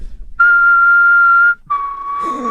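A person whistles outdoors in the woods, imitating a character's signature call: two clear sustained tones, the first long and steady, the second slightly lower, close and loud with a faint rustle at the end.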